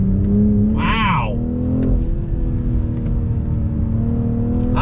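A 2021 BMW M440i accelerates hard in low gear, its engine rising in pitch and clicking through a quick shift, loud and close from inside the cabin, with someone talking over the steady roar.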